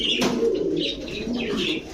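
Several pigeons coo continuously in a dense, overlapping murmur, close and steady, with higher chirps and a brief sharp knock near the start.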